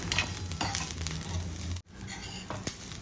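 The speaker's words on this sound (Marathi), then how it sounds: "आता हे सर्व जिन्नस गुलाबी रंगावर भाजून घ्यायचे" Onion, dry coconut, garlic and ginger roast in oil for Kolhapuri misal with a soft, low crackle, punctuated by scattered spatula scrapes, light clinks and a brief dropout midway.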